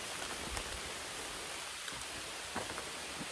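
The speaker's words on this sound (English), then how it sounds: "Well, it just started raining." Light rain falling on a hiking trail makes a faint, steady wash of patter, with a few slightly louder drops standing out now and then. No one speaks.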